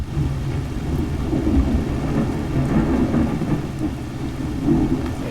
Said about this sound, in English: It sure is rainy out today